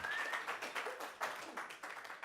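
A live audience applauds a local singer-songwriter at a small session, a dense steady wash of clapping heard up close throughout the short stretch.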